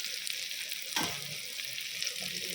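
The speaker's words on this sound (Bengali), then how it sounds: "কালি জিরা ফোড়ন দিচ্ছি, কাঁচা লঙ্কা দিয়ে দিচ্ছি ফেরে, আর বেগুন দিচ্ছি" Eggplant frying in hot oil with nigella seeds and green chilli, a steady close sizzle with a sudden louder hiss as the pieces go in, then continuous crackling.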